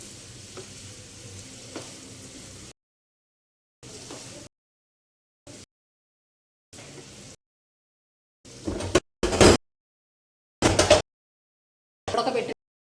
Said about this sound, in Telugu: ఈ మసాలా, ఈ కారం ఇవన్నీ కూడా కొంచెం వేగాలండి.